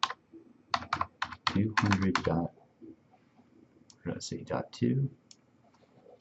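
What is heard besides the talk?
typing an IP address on a computer keyboard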